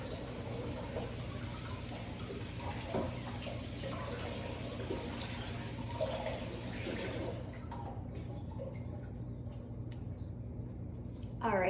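Canned garbanzo beans being rinsed in a colander at a kitchen sink, with a steady close stream of running tap water for most of the stretch before it thins out and stops near the end.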